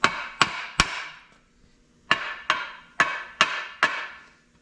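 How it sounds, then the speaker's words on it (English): Sharp metallic hammer taps on metal dowel guides of a 6.0 diesel engine ring out: three quick strikes, a pause, then five more in a steady rhythm, close and clear with no talking. "Let's get the hammer. Give her a quick tap around me."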